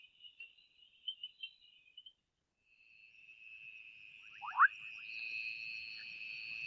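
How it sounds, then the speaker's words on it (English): A Senegal running frog calls in a quiet natural setting: short bubbling, rising notes near the middle, set against steady high-pitched insect trilling that runs before and after. "So that's called the Senegal running frog."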